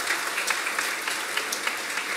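A church congregation at an Easter service claps steadily together, a dense, sustained patter of many hands filling the room with no talking over it.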